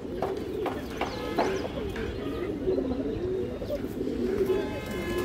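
Pet pigeons, a mated pair offered for sale, cooing close by in a continuous low, throaty warble with soft chirps mixed in and some background voices.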